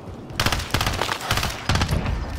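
Rapid bursts of automatic gunfire in Warzone's Rebirth Island, loud and close, coming in three dense volleys with brief gaps between them.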